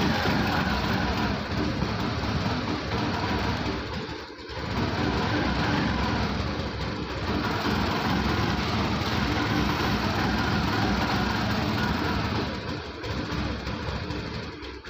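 TVS Jupiter BS6 scooter with a missing problem, its engine running steadily and loud for the whole stretch, with brief dips around the fourth and thirteenth seconds as it is revved and falters.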